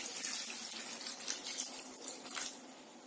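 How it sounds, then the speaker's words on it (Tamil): Water is poured steadily into a pan of potato gravy with onion and tomato. A soft, close, continuous splashing trickle lasts about three seconds, with no talking. "இப்ப இது கூட நம்ம கிரேவிக்கு தேவையான அளவு தண்ணி சேர்த்துடலாம்"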